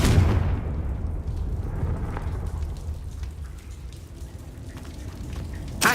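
A Confringo fire spell cast in the video game Hogwarts Legacy, a loud rumbling burst at the start that fades into a crackling, rain-like roar with a sharp flare near the end.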